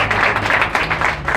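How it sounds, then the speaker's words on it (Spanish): Audience applause at a psychology conference in a hall, dense, steady clapping from a group filling the whole stretch, fairly loud and close with no voices over it. "Aplausos para ustedes."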